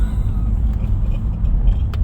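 An Impala SS engine drones loudly and steadily from inside the cabin as the car is floored, a heavy low rumble that holds throughout.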